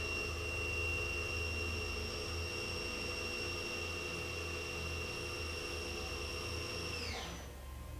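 A Chevalier vertical machining center spindle spins at 5,000 RPM, a loud steady high-pitched whine with a constant drone, then winds down sharply near the end; no talk.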